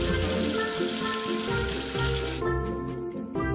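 Water splashes and rinses soap off a number in a kids' learning game app, a short burst of watery wash under steady cheerful background music that carries on after the splash stops.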